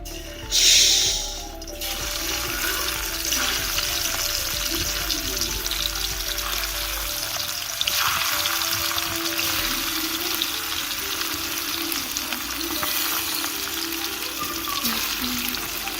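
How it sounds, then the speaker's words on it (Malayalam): Masala-coated sardines frying in hot oil give a steady, dense crackling sizzle that holds at an even level throughout, with a brief louder splash-like burst near the start as the fish goes into the pan. "ഈ മസാല തേച്ച മീൻ നമുക്ക് എണ്ണയിലിടാം"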